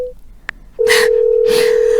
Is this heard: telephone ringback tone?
yes